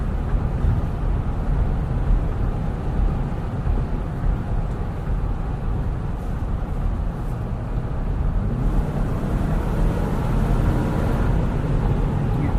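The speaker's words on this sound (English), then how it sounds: "once you hit about 55 miles an hour, you start to get some wind noise" A 2019 Jeep Wrangler Sahara four-door with a 2-liter turbo engine, driving on a snowy road: a steady loud cabin rumble of road and wind noise with engine drone underneath, no voices, continuous throughout.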